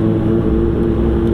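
A Kawasaki Ninja H2 engine holds a loud, steady, buzzing high-rev drone on a street, sounding close and continuous with no talk over it.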